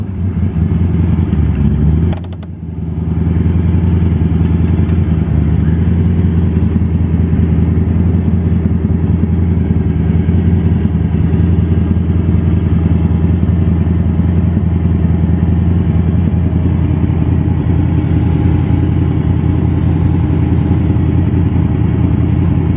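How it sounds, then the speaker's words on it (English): A Factory Five MkII car engine cold-starts with a short burst of cranking, then settles into a loud, steady, rumbling idle that continues close by without interruption. "So the engine is cold in the car, and I'm going to start it up."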